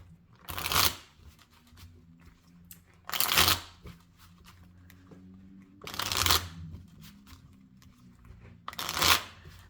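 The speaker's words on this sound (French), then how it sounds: "Et j'utilise pour ça le petit Rider-Waite. Alors, je vais tirer 4 cartes." A small Rider-Waite tarot deck is shuffled and cards are drawn in four distinct riffling bursts, each about a second long and spaced a few seconds apart, close and clear with quiet handling noise between.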